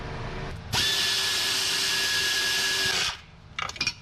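A power tool drives bolts in on a vehicle side panel, its steady high whine running for about two and a half seconds before stopping, followed by a few faint knocks.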